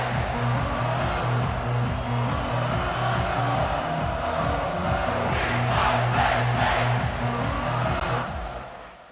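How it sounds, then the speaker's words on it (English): Stadium crowd in the EA Sports College Football 25 video game, a loud, sustained roar of many voices over a steady low droning tone, holding strong for several seconds before fading at the end. "This crowd bringing an ear-splitting welcome to their visitors."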